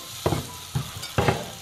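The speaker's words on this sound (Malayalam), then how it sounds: "ആ മുട്ട ഒന്ന് ജസ്റ്റ് വെന്ത് വരുന്നത് വരെ നമ്മൾ അത് ഇളക്കി കൊടുക്കാം" Egg fries in a pan for kottu dosa, with three quick stirring scrapes over a soft, steady sizzle, close and moderately loud.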